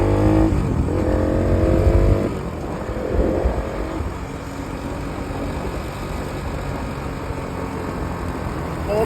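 A vehicle engine revs hard and climbs in pitch for about two seconds as it accelerates out of a bend, then drops back to a lower, rougher drone that keeps going.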